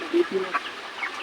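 Chickens on an integrated farm with a fish pond beneath the coops give a few short, faint clucks close by, spaced irregularly over quiet background.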